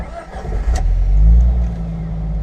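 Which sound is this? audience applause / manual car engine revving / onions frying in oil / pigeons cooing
manual car engine revving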